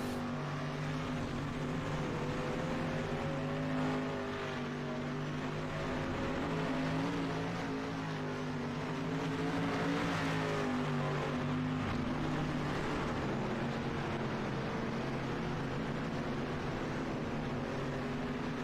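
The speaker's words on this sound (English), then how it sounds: "watch these cars, just zoom around this place" Steady engine drone with sustained harmonic whine of race cars circling continuously at a distance in iRacing practice, holding a constant pitch with slight swells throughout.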